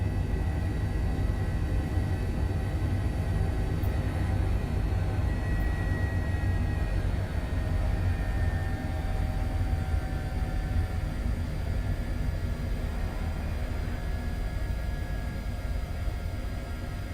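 Airbus H145 helicopter idling on the ground in a flight simulator game, a steady broadband turbine whine and rotor rumble holding constant and fairly loud throughout, with no talk over it.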